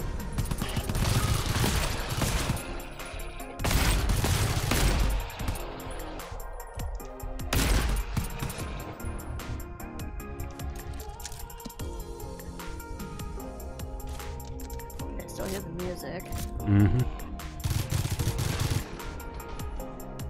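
Gunfire in the GTFO video game, loud bursts of automatic shots in several clusters with quieter stretches of scattered rounds and a heavy hum between them.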